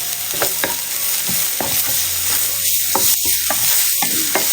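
Diced carrot and softened onion sauté in a hot pan for a samosa filling, giving a steady close sizzle broken by the scrape and clatter of a spoon stirring every second or so, with no voices.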